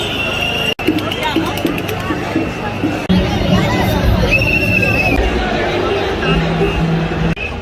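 A crowd of protesters gathers in Italy, a dense babble of many voices with shouts and movement, loud and continuous, with a few sharp knocks and breaks along the way.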